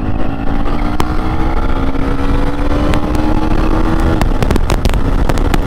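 A 2024 KTM Duke 250 motorcycle engine drones steadily on a test ride, loud and close with a sustained low hum, wind rush, and occasional sharp clicks as it runs through gear shifts.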